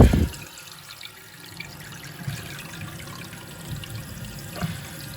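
Toilet tank refilling through a newly installed fill valve, a steady hiss and gurgle of water running into the tank after an initial clunk, continuous and moderately quiet, with no speech.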